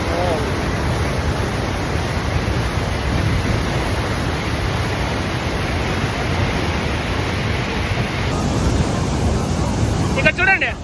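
Steady, loud rushing of the River Nile at Jinja, Uganda, a broad broadband roar of moving water that continues unbroken throughout, with a brief faint chirping near the end.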